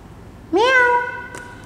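A single clear meow, rising then holding, imitated by a voice, followed by quiet.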